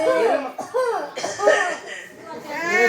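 A voice imitates an old man's wheezy, rasping cough in several short bursts, mixed with chuckling, during a Tamil villu paattu folk performance.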